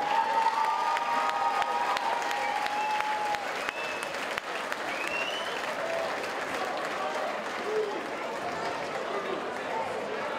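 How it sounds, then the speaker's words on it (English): Crowd applause at a combat sports event after a light heavyweight fight, steady clapping mixed with cheers and shouts throughout, while an announcer's amplified voice and some chatter run over the noise. "give both fighters a round of applause"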